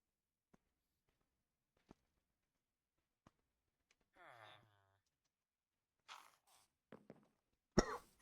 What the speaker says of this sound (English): Hold on, I really have to cough.